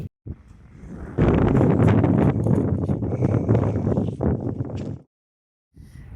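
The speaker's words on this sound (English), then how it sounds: "It's really windy, huh?" Strong wind in the California desert roars and buffets the microphone for several seconds in loud rushing gusts, then drops to near silence before a faint gust returns.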